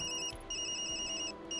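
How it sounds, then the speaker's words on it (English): A mobile phone rings in the video game Tokyo Dark: a bright, electronic ringtone repeating in short bursts with brief gaps, clear and steady over a soft low background hum. "Sorry, Yumi. That's my phone."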